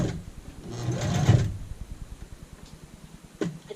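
A sewing machine edge stitching the body of an apron, a close rhythmic whirring run of stitches that swells for about a second, then quiet ticking and a short second burst near the end, with no talk.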